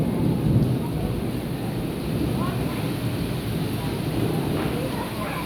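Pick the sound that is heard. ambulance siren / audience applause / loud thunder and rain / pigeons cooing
loud thunder and rain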